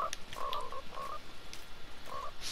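A frog in the video game Fortnite croaks in short, repeated bursts, a few evenly spaced croaks of moderate volume with no talking over them.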